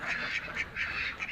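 Ducks and muscovy ducks quack in a steady, overlapping chorus, with repeated raspy calls coming close together at moderate loudness and no voices.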